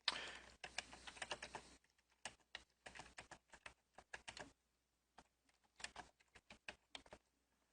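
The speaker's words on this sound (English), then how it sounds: "We type in the request," Typing on a computer keyboard to enter a request, a continuous rattle of keys at first, then scattered clusters of crisp clicks with short pauses, close and quiet.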